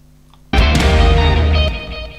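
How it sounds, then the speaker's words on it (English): A gong drum from a recorded drum track strikes once with a huge, fat, booming attack, ringing loud and full before tapering off, heard alone without talk. "So that was the gong drum that you heard there"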